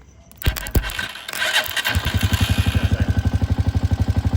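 A Honda TMX 125 motorcycle's electric starter cranks with a few sharp bursts, then the engine catches and settles into a loud, rapid, even idle chug.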